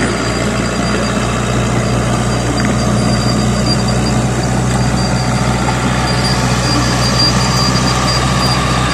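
Komatsu tractor engine running nearby, a loud, steady low diesel drone with constant idling-like hum and a faint high whine, unchanging throughout, with no talking over it.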